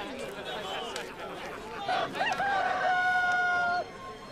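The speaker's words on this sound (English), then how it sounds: "Before the cock crows today, you will say three times that you do not know me." A rooster crows once, a loud, drawn-out cock-a-doodle-doo over a murmuring outdoor background of voices in a Gospel of Luke film scene.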